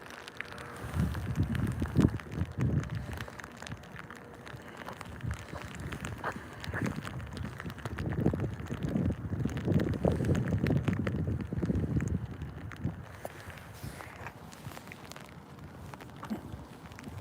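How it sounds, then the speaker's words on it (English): Steady rain patters outdoors with gusts of wind buffeting the microphone, fairly faint and continuous, with no voices. "Now it's raining a little harder."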